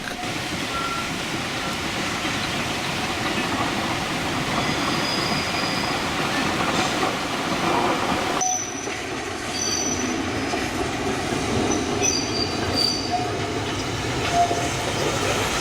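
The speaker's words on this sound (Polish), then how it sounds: "a tu pociąg wraca z Brickfeld, przejeżdżając przez tunel Frontsberg." A narrow-gauge train rumbles steadily along, wheels rattling and occasional high squeals, with the sound shifting abruptly midway as it enters the Frontsberg tunnel on the Feistritztalbahn in Austria.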